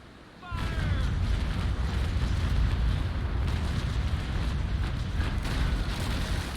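A ship's cannon broadside fires in the Naval Action naval combat game, starting as a sudden loud boom and rolling on as a sustained, dense roar of overlapping blasts for several seconds.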